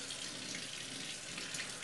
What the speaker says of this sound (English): I'm going to get some warm water from this faucet, which is probably off camera, but you can hear it.